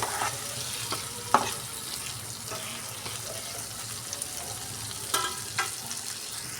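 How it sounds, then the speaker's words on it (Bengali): Fried potato and eggplant are sautéed with onion and spices in a pan, giving a low steady sizzle. Sharp scraping strokes of a spatula break through it at irregular intervals. "বেগুন আর আলুটা দিয়ে আবারও খুব ভালো করে আমি কষিয়ে নেব"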